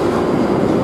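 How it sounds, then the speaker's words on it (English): Steady, loud rumble and rattle of a London Underground Northern Line train running, a dense continuous roar with faint clicking texture and no talk. "This is the Northern Line train."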